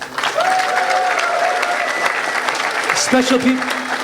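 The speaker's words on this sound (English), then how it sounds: "Let's give Khabib a round of applause" An audience claps for Khabib Nurmagomedov, a steady wash of applause with voices and cheering mixed in, continuing throughout.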